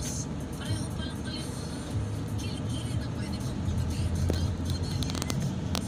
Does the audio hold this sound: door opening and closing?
no